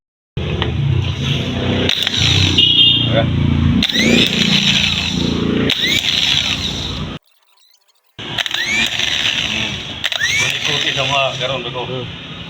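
A Suzuki F6A starter motor cranking on a bench test: loud, continuous mechanical whirring and grinding runs for several seconds, stops briefly, then starts again, like an electric motor spinning up under load.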